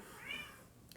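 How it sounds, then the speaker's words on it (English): A two-year-old house cat gives a single short, fairly close meow that rises and falls, followed by a faint click, with no talking. "My kitty cat's mad at me."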